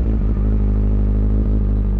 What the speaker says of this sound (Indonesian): itu dia suara mesin Z800